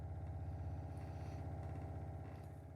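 A VonWater countertop water filter hums and whirs steadily as it fills a pitcher, a low continuous motor drone, quiet and close, with no talking.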